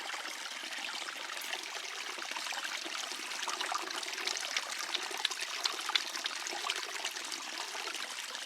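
Spring water trickles steadily on a White Mountains backpacking trail, a soft continuous wash of bright splashing and dribbling, fairly faint and close, with no voices.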